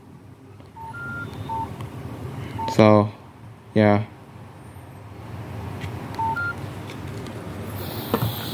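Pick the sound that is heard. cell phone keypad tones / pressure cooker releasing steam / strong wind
cell phone keypad tones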